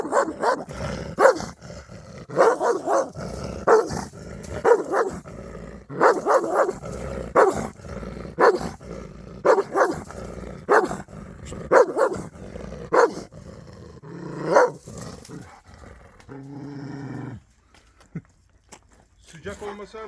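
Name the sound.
Presa Canario and Akbash dogs barking and growling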